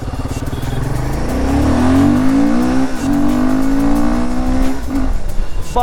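Royal Enfield Himalayan 450 motorcycle engine accelerating hard, a steady rising drone that climbs in pitch through the gears, loud and close, with wind rush and no talking.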